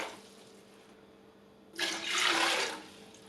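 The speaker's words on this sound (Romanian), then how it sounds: "Într-o oală încăpătoare punem apa," Water pouring into a large, roomy pot for quince syrup, a quiet start then a sudden rushing gush of liquid that swells and fades over a couple of seconds, close and alone.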